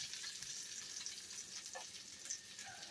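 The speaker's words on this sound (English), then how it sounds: "We need to flip our burger over. Let's give that some more heat." A hamburger patty fries in a pan with a soft, steady sizzle heard fairly quietly up close, small pops and crackles scattered through the continuous hiss, and no talking.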